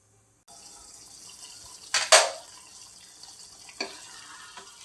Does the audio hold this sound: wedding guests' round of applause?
no